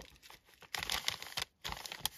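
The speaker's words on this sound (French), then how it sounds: "c'est une grande enveloppe, elle n'est pas ouverte. Donc je vais l'ouvrir avec vous." A large paper envelope from the mail is handled and torn open close by, giving bursts of crinkling and tearing broken by short pauses.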